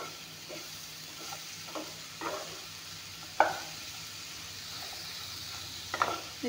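Bottle gourd and fish frying in a pan, a soft continuous sizzle with occasional stirring scrapes and a sharper clink or two of a utensil, no talking.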